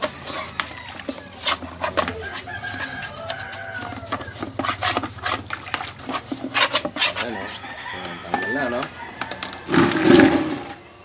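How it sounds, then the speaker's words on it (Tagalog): Rough, rhythmic scraping of sandpaper rubbing paint off plastic motorcycle fairings, repeated strokes at close range, with talking and a rooster crowing in the background. "liha pa kayo ng liha dyan. Para lang matanggal yung pintura."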